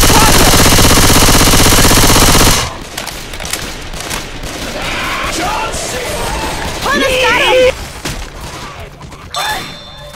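A railgun firing in the Left 4 Dead 2 Dark Carnival campaign. A loud, dense, harsh blast fills the opening seconds, then quieter scattered gunfire and game effects follow under in-game character voices.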